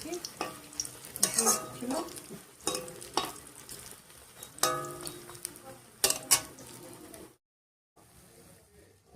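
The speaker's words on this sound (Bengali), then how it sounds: "অল্পে ভেজে নেব।" Pea chops (matar chop) frying in a little oil in a pan, with a steady close sizzle, bursts of stirring and utensil clatter, and a brief voice, before the sound drops out and a softer sizzle returns.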